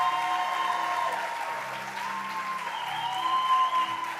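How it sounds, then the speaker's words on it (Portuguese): A church congregation at a conference in Natal applauds together, a steady wash of clapping under background music and a voice from the stage. "Queria que essa igreja aplaudisse o Senhor pela vida de cada um deles"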